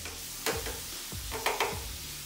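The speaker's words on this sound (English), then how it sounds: "you got to be careful when you're cooking pork bacon. You don't want it the grease to pop up on your hand." Pork bacon frying in a pan, a continuous sizzle broken by a few louder pops and spatters of grease, close and without talking.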